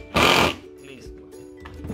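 A drill drives a screw into recycled wood for a planter base, heard as one short, loud whirring burst followed by quieter handling noise.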